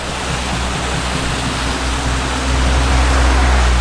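Loud, continuous rush of clear water cascading down beside a mountain road in the Alps, a steady broadband roar that swells slightly toward the end.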